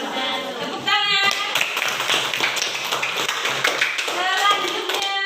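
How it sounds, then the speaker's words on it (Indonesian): A classroom of children claps during a teaching practice lesson, a brisk patter of applause over young voices chattering and calling out. "Tepuk tangan."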